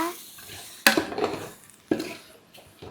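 Sautéing in a metal pot for Dindigul mutton biryani, with two clanging scrapes of a utensil against the pot over a faint sizzle.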